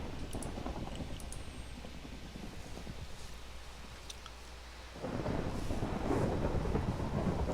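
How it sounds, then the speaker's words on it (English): A thunderstorm in Minecraft modded with FTB Infinity Evolved, with a steady wash of rain and low rumbling that swells louder and fuller partway through, with no voices. "get rid of this thunderstorm because it's way too loud."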